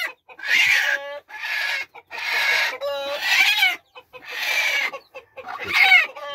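A young broody game hen clucks on a farm in spring, giving about six close, loud bursts of harsh, pitched clucking separated by short pauses.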